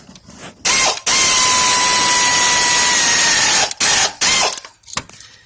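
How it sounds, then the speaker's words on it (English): A powered lazy man ratchet turning on the water pump of a 2006 Dodge Charger Daytona R/T 5.7, a loud steady whirring run of about three seconds followed by two short bursts, with no talk. "See if we can get this lazy man ratchet in here."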